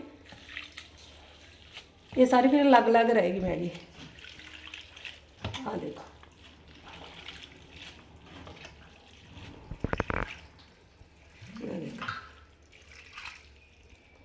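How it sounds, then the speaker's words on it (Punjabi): Cold water pours over cooked Maggi noodles in a loud burst for a couple of seconds, then a person talks with occasional kitchen clatter. "ਆ ਦੇਖੋ ਇਸ ਤਰ੍ਹਾਂ ਆਪਾਂ ਠੰਡਾ ਪਾਣੀ ਪਾਵਾਂਗੇ"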